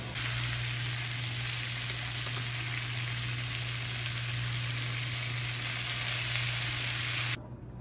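Onions and garlic sizzle steadily in a hot pan, a constant close frying crackle with an electrical hum underneath, cutting off abruptly near the end.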